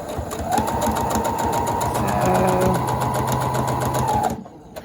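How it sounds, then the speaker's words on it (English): A sewing machine stitches cotton fabric for a face mask, humming steadily and loudly with a rapid needle rhythm for about four seconds before stopping abruptly. "So here I'm going to do 3 stitches backwards, 3 stitches forwards, just to secure it."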